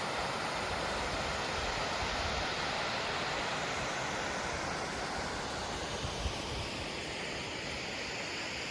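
The Green River in Greenfield, Massachusetts flows with a steady broadband rushing wash, continuous and fairly close, with no voices over it.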